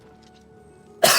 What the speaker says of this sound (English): I still have this cough